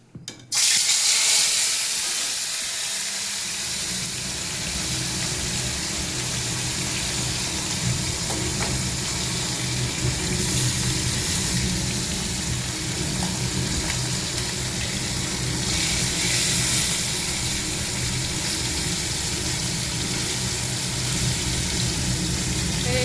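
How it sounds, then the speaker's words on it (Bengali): Small fish fry in a pan with a loud, steady sizzle that begins abruptly and crackles on evenly for over twenty seconds, close up and without talk. "আর এখানে এখন মাছ ভাজবো, ছোট মাছটা ভাজবো"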